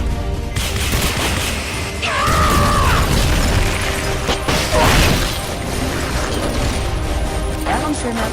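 Rocket launcher fire in Metal Gear Solid: Peace Walker, heavy booming bursts and mechanical clatter amid a dense wash of battle noise, with voices and game callouts layered over the explosions.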